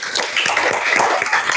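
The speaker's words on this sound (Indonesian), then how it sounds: "Oke, tepuk tangan untuk kelompok 5." Applause for a student group in a classroom ethics lesson on generative AI, a dense patter of clapping hands throughout a short burst, fairly loud and close with no talk.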